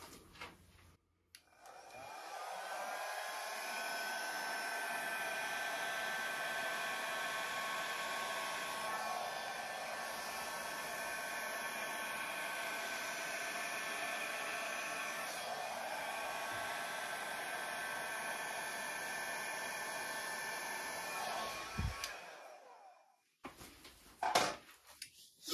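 A hair dryer used on acrylic pour paintings whirs steadily for about twenty seconds, a constant close-up airy drone, then clicks off followed by a few handling knocks.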